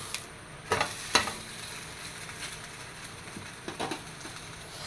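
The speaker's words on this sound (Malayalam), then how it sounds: "ഒരു പാൻ ചൂടാവാൻ വെച്ച് ലേശം ഓയിൽ ഒഴിച്ചു കൊടുത്തിട്ടുണ്ട് ഇതാ ഇത് ഇങ്ങനെ എടുത്തിട്ട് പതുക്കെ അതിലിട്ട് കൊടുക്കാം" Sweet chapati fries in a little oil in a hot pan, a soft steady sizzle with a few brief clatters and taps as it is handled. The sound is quiet and close, with no talking.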